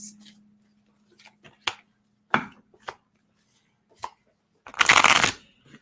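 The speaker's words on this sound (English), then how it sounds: "I just shuffled the devil out of these cards" A deck of cards is riffled and bridged in several quick bursts, ending with one longer, louder shuffle, close and otherwise quiet.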